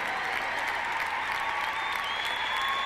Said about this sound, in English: Don't stop applauding, because we've seen the encore.